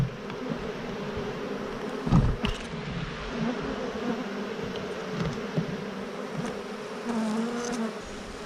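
Honey bees swarm in a dense, steady buzz around a hive frame at an apiary, close and continuous, with a few brief knocks and handling bumps partway through.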